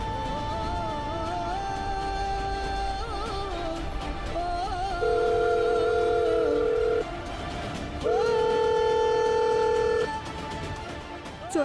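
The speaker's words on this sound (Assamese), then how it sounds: "তুমি এবাৰ জয়ন্তক ফোন কৰা" A phone call goes out, with quick electronic dialing chirps followed by steady ringback tones that repeat in long, even bursts, loud and close over faint background noise.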